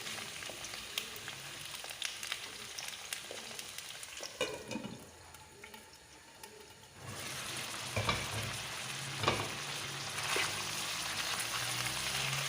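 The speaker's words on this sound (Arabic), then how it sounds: "تنقله في المقله." Zucchini slices fry in a little oil in a pan, a steady close sizzle that dips quieter partway through, then swells louder again with light scraping and clatter.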